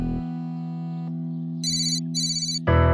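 An electronic phone ringtone plays loudly, shifting through sustained tones and bright repeated beeping bursts, with no talking.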